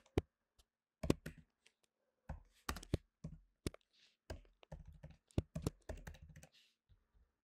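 Keys tapped in bursts on a computer keyboard while code is typed into a Docker Compose file for a Django project; the clicks come close and clear in irregular runs with short pauses, and no one talks.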